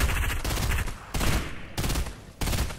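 Rapid volleys of gunfire crackle in steady, loud bursts, a few clusters of repeated shots close together with brief breaks between them.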